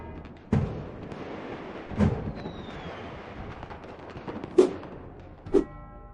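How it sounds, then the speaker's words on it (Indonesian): New Year fireworks over Copacabana Beach in Rio de Janeiro, Brazil, go off as four distant booming thuds spaced a second or two apart over a low crowd and ambient murmur. "Sekitar 15 menit lamanya, kembang api terus memukau masyarakat Brazil di sana"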